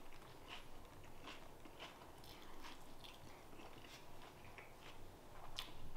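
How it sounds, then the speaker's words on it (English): Crunchy bites and chewing on a beer-battered fish burrito with crisp veggies, a series of soft, close crackly bites and mouth sounds over a steady low background hum, no talking. "But let's take a bite and see what it's all about."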